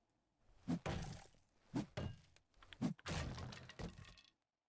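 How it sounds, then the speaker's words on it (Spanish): A zombie pounds from overhead in the game 7 Days to Die: about five heavy, cracking thuds arrive in an irregular rhythm with brief gaps between them, each blow sharp and splintering. "Ahí arriba un zombie, golpeando"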